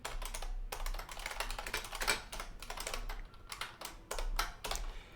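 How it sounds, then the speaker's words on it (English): Rapid clicking of a computer keyboard during programming, with bursts of keystrokes separated by brief pauses, close and fairly quiet, with no voices. "as I'm typing all of this"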